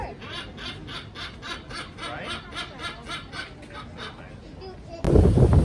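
A silvery-cheeked hornbill at a zoo gives harsh, rhythmic honking calls in quick succession, loud and nearby, before a sudden burst of louder rumbling noise at the end.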